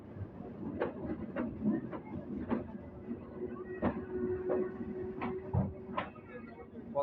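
A train pulls out of Kotchandpur railway station, its wheels knocking in irregular clicks and thumps over a low rumble, heard from inside the carriage with a faint steady tone.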